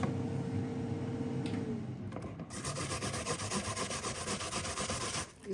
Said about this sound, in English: This grating part is the most difficult part of making this dish.